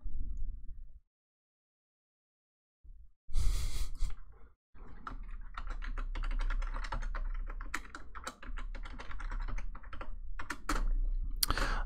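Password keys tapped on a computer keyboard, a short burst of clicks followed by a steady run of close, busy keystrokes with brief pauses, no voices.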